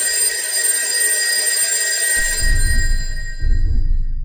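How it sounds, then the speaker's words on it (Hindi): A telephone rings with a steady electronic tone, joined by low rumbling noise partway through. "एक सुबह अनुज के घर उसकी नानी का कॉल आया।"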